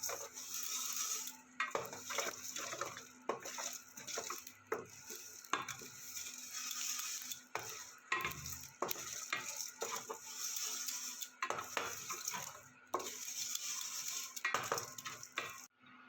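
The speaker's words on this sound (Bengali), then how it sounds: "গোটা মশলাগুলো আমি ভালো করে কড়ায় ভেজে নেবো" Whole spices fry in a kadai wok for a vegetarian Bengali aloo dum, giving a continuous close sizzle broken by repeated scraping strokes of a spoon stirring against the metal.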